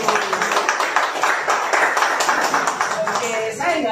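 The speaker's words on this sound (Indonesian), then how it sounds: "Dengan lihat tepuk tangannya dulu." A huge crowd at an evening cultural talk event claps steadily, dense overlapping applause filling the space while a voice speaks over it.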